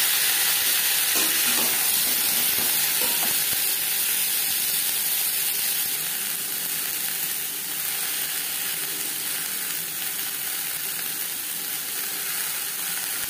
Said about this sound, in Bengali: কুমড়ো আমি সবজি আমি হালকা করেই ভেজে নেব। আর দিয়ে দেব ফুলকপি।